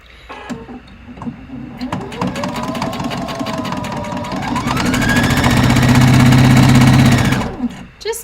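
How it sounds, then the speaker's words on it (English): A sewing machine stitches pockets onto a playsuit, its motor whirring up to speed and running fast and close for several seconds before stopping, with a voice talking briefly around it. "It is time to sew them on."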